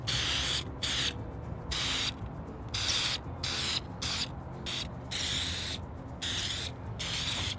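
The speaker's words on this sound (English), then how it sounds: "We're going to go ahead and spray it with Zinsser shellac" Zinsser shellac is sprayed onto a dresser in repeated loud hissing bursts from a can nearby, about a dozen sprays in an uneven rhythm with short gaps between them.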